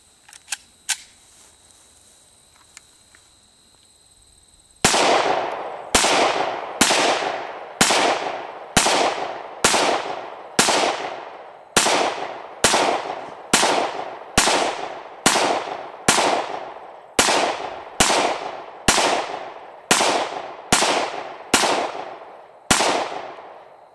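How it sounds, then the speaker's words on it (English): An FN Five-seven pistol fires 20 rounds in a steady, evenly spaced string of loud, sharp reports, each followed by a brief ringing decay, after a few seconds of quiet handling sounds. "I'm going to go through another 20 rounds."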